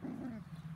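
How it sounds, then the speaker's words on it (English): Young schnoodle puppies roughhouse close by, giving off a short run of playful growls and whimpery yips, moderately loud and steady over the brief moment. "These guys are roughhousing underneath me."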